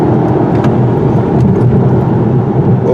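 A loud, close 2019 Volkswagen Passat engine roaring at high revs, steady and droning throughout with a slight dip at a gear shift near 6,200 RPM.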